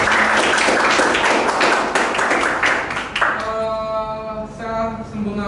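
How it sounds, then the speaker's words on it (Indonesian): An audience in a classroom teaching session breaks into dense, continuous applause that fills the space, with a voice or tone rising beneath as the clapping thins toward the end. "tepuk tangan untuk Putri."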